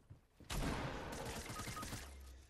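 Gunfire crackles in Fortnite as a dense burst of rapid shots erupts suddenly and rattles on for about two seconds, loud and close.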